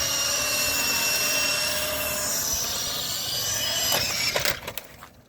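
A small RC helicopter flies at full throttle, its rotor and motor making a loud, steady whine with rising tones that ends in a few sharp clacks and knocks before the sound drops away, no talk.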